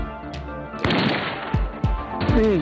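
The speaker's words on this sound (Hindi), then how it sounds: "थोड़ी देर में सामने वाली झाड़ी हिली तो गनी ने गोली चलाने का हुक्म दिया।" Gunshots are fired at a rabbit, one sharp blast followed by several more booming cracks, loud and close, with a voice briefly audible near the end.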